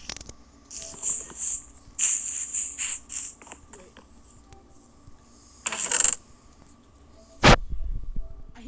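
Intermittent clicking and chittering bursts from a Minecraft warden come in faint clusters against a quiet cave background, followed near the end by a single sharp, loud hit.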